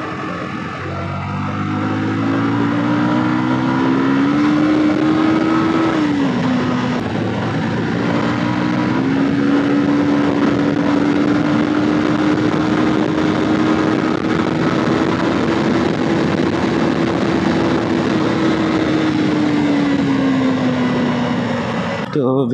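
A Yamaha R15 V2 motorcycle rides at steady speed, its engine holding a sustained droning tone that dips briefly and then climbs again, close and loud under strong wind rush.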